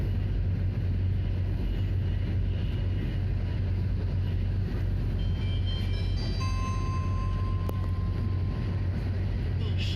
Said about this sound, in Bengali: ট্রেন চলেছে তিনশো কিলোমিটার প্রতি ঘন্টার থেকেও বেশি স্পিড